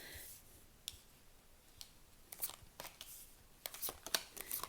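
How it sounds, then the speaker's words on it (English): Tarot cards laid out one by one on a table make soft, quiet taps, slides and clicks, sparse at first and then clustering near the end. "So I'm going to just lay the cards out."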